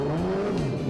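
A competition race car, hand-built, sweeps past with a loud, rising and falling engine drone and tire noise, close and continuous for under a second.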